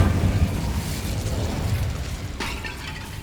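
An Incendio fire spell cast in the Hogwarts Legacy video game, a rumbling fiery burst that swells and holds, then a sharper crackling flare near the end, loud and close with no voices.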